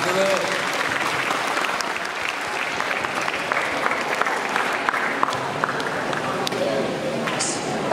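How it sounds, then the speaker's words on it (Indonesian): An audience at a Maulid Nabi commemoration gathering claps continuously in a steady, dense round of applause lasting the whole stretch, with voices murmuring faintly underneath. "Tepuk tangan dulu"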